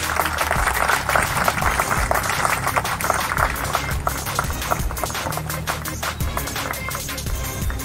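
Applause at an office inauguration of the Anti Crime and Corruption Squad's 63rd branch in Ahmedabad, Gujarat: continuous crowd clapping, loud and dense, running the whole stretch with scattered sharp individual claps.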